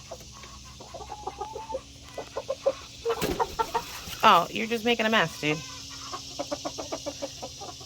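Six roosters and one hen cluck and chatter in a lively group, with a burst of louder squawking in the middle, while a person talks briefly nearby.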